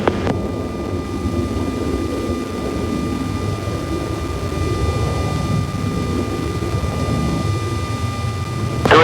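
F-14 and F-16 fighter jets in a 1991 combat flight video game, heard as a steady, loud, continuous jet-engine roar with faint high whining tones throughout. No voices.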